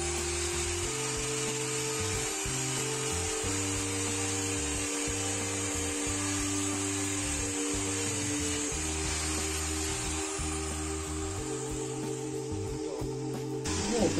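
A power polishing tool with an old paste-soaked buffing wheel works on a rusty glockenspiel. Its motor gives a steady, close, whining hum that shifts pitch now and then as the pressure changes, running on without speech.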